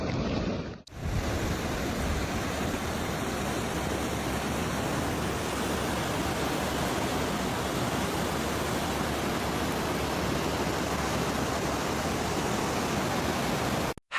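The flooded, swollen Guadalupe River in Kerr County, Texas, rushes past in a loud, steady roar of water that continues unbroken and close for the whole span.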